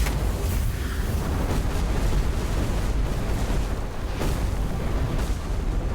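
Fire sorcerer meteor spells in the video game Last Epoch, a dense, continuous barrage of booming explosions and fiery rumbles with repeated impacts.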